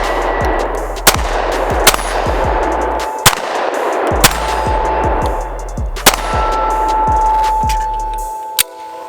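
Six sharp pistol shots from a Mossberg MC1sc ring out at irregular intervals on an outdoor range. Each crack is followed by a metallic ping as a bullet hits a steel plate, and the shots sound loud and close.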